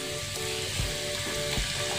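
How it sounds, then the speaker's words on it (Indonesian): Malaysian crisps (keripik) dough frying in hot oil over a medium-low flame, a dense continuous sizzle and crackle with soft bubbling, close and steady throughout, no voices. "langsung aja kita goreng."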